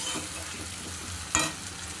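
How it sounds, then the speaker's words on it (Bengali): A mashed egg and potato mixture is stirred slowly in a pan over a soft continuous sizzle, with one sharper scrape of the utensil standing out briefly. "যে আলুর ডিমটা মেখে রেখেছিলাম আস্তে আস্তে এটার মধ্যে দিয়ে দিলাম দিয়ে একদম আস্তে আস্তে এটাকে নাড়তে হবে"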